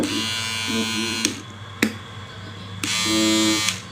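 A Wahl electric shaver trimmer switched on, its steady high buzz running with brief clicks and breaks as it is handled, loud and close.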